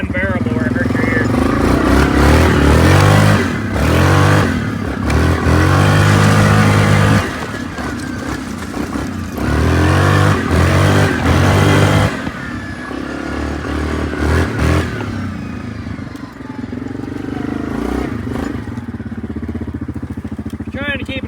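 The engine of a 2024 Yamaha Grizzly 700 ATV fitted with a modified exhaust revs up close again and again, with loud, throaty surges and a choppy idle between them, and the clip holds no speech.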